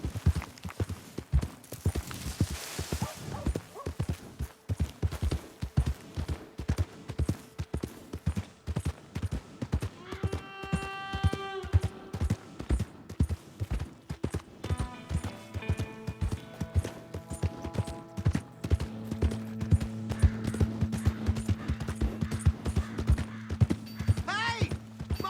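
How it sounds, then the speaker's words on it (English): Horse hooves clip-clopping in Red Dead Redemption 2, a steady rhythmic series of close hoof beats running throughout, with tonal game music and a few distant voices or calls layered beneath. "Hey! My horse!"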